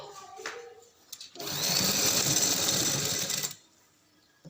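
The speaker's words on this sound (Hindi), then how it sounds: "एंड तक इसी तरह सिलाई लगानी है।" A sewing machine stitching lace onto a fabric sleeve runs in one steady whirring burst of about two seconds, close and loud, with quieter handling sounds before and after.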